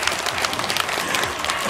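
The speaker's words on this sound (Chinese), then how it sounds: "我们给县长一个掌声鼓励" An outdoor crowd in a park at a Lunar New Year ribbon-cutting event claps for the county magistrate, a steady dense burst of applause close by, with no speech over it.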